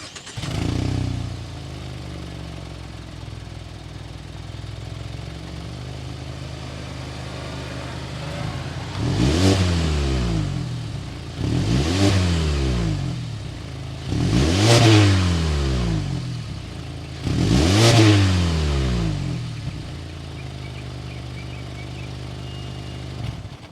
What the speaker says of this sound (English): Let's start it up and hear that exhaust note.